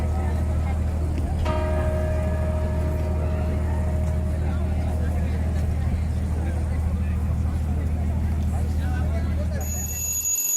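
Church bells of St Mark's in Venice ring out noon, their ringing tones entering a few seconds in and sustaining over a constant low rumble of city and boat noise.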